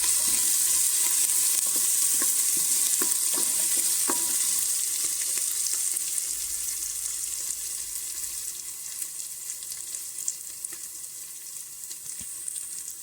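Ginger, garlic and crushed green chilli sauté in hot oil in a pan for a mutton paya soup, a steady bright sizzle with occasional scraping stirs, fading slightly over time.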